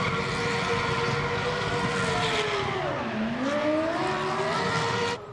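A Formula 1 car doing donuts at a city street race in Rotterdam, its engine a loud continuous high whine that dips and rises in pitch as it spins, heard from a distance amid the crowd.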